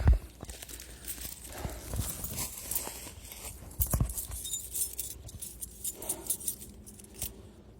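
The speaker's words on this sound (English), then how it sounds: "These are the keys." Metal keys jangle and clink as they are handled in several loose bursts, close and moderately loud, with scattered knocks and rustling in between.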